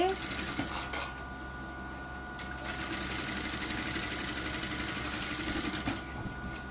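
A sewing machine stitches a plain blouse, humming with a fast, continuous rattling needle rhythm that stays close and steady throughout, with a faint shift near the start.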